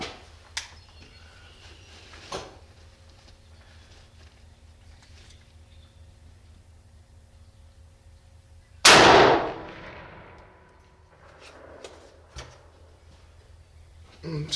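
A single loud, close shotgun blast from a Remington 870 fitted with a super full turkey choke, its sharp report decaying into a rolling echo, with faint clicks and outdoor quiet before and after.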